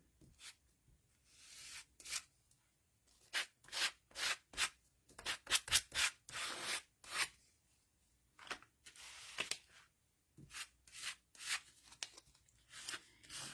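An old credit card scraping paint across paper for a mixed media leaf wreath, heard as a series of short, close rasping strokes in irregular bursts with brief pauses between them, and no talking.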